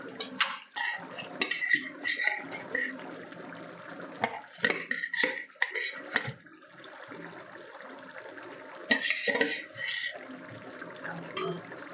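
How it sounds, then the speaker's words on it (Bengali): Fried potatoes tipped into a pan of chicken kosha, giving repeated clattering scrapes and knocks of utensil against pan, with close, busy kitchen handling and a wet, liquid edge throughout. "মাংসটা এখানে কষানো হয়ে গেলে আমি ভেজে রাখা আলুগুলো দিয়ে দিচ্ছি।"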